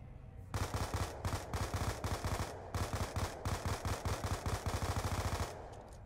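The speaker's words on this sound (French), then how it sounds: "Tire 3 balles par 3 balles à peu près." Video game gunfire from a town 1v1 match, rapid three-round bursts repeating in a steady rhythm, loud and close with short pauses between volleys.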